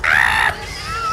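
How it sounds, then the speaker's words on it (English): A person lets out a loud, sustained scream right into a close microphone, a single strained cry of about half a second that breaks off into quieter vocal noise. "I just needed to scream."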